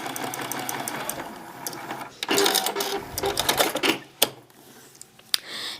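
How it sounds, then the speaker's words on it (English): Sewing machine stitching quilt pieces together: a fast, steady mechanical whir and chatter of the needle that speeds up, slows and stops, with a few sharp clicks, close by and with no talking. "I'm just going to sew just right to the left of that line right there."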